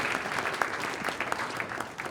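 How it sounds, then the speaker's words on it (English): A short burst of applause at a startup pitch event, a crowd clapping quickly and evenly, heard from a moderate distance. "One more round of applause."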